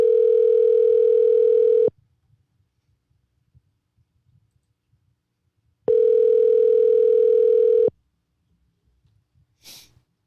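A telephone ring tone sounds loud and close in two long, even bursts of about two seconds each, separated by silence. A brief breathy noise follows near the end.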